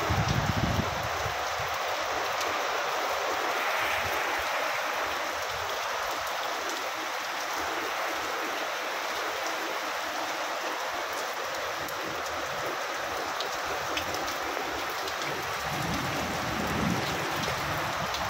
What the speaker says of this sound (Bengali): ইচ্ছা মতন বৃষ্টি হইতে খালি।